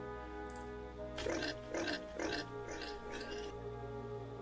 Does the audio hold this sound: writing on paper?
no